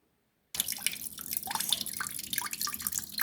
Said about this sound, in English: I'm washing my rice now